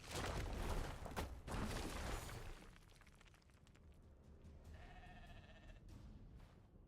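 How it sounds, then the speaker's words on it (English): A sheep bleats in the fantasy role-playing game Divinity, a short wavering call near the end that follows a loud burst of crashing, breaking game noise. "Where'd that sheep go?"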